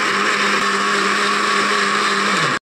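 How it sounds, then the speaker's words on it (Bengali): A mixer grinder whirs steadily and loudly, blending chopped onion, ginger, garlic, green chili and tomato into a spice paste, then cuts off abruptly at the end. "মশলা পেস্ট করার জন্য একটা মিক্সিতে দিয়ে দিলাম পেঁয়াজ কুচি, আদা, রসুন, কাঁচা লঙ্কা আর টমেটো"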